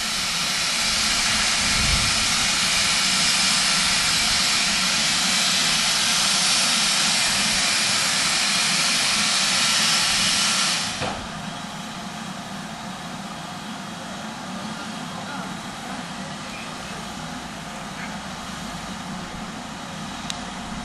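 Steam locomotive George Stephenson building up steam at Goathland station on the North York Moors railway, a loud steady roaring hiss that drops to a quieter, continuous hiss about halfway through.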